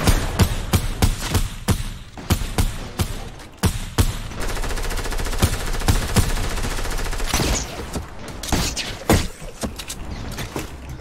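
Video game firefight with the player under fire from behind: loud, sharp bursts of gunshots in rapid clusters, with a denser stretch of continuous rattling fire in the middle before more scattered shots.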